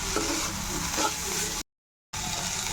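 Sizzling frying of rongalao (red) bakoli with cumin powder and salt, with scraping stirring sounds in a pan, steady and close, cut by a brief half-second silence before the sizzle resumes.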